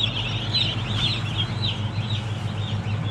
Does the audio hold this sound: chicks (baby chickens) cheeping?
yes